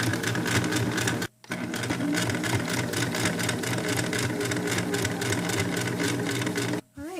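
A sewing machine stitches a corset seam in long, fast, rhythmic runs, loud and close, pausing briefly twice before starting again.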